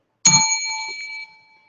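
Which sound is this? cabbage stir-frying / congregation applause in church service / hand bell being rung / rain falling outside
hand bell being rung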